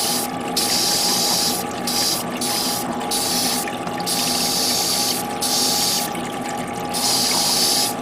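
Continuous rushing and splashing water from a waterfall paint booth runs steadily, with a hiss that swells and drops in uneven pulses over a constant mechanical hum.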